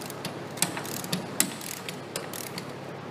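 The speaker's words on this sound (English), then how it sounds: "I'm just using my torque wrench as a ratchet at this point." A torque wrench worked as a ratchet while running down a threaded rod, giving a series of quick, faint pawl clicks at an irregular pace, fairly close.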